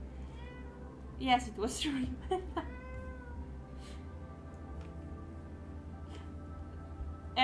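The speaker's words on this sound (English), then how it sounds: "I hear a meow." A cat meows a few times nearby, short tonal cries over steady room hum, while a person speaks briefly.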